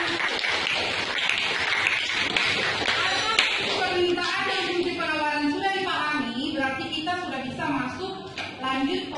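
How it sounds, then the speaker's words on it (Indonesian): Classmates in an economics classroom applaud with a burst of scattered clapping, and a teacher's voice and children's chatter carry over it. "Beri aplaus buat teman-teman."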